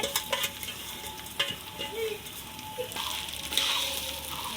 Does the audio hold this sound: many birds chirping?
no